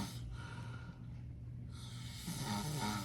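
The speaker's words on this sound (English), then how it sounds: "He's snoring like crazy." A man asleep snores, with a drawn-out rasping breath followed by a louder snorting inhale toward the end, heard close but quietly with no one talking.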